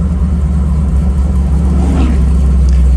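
A 1969 Camaro with new gears and a T56 transmission drives slowly, its engine giving a steady, deep, loud rumble from inside the car, with no talking.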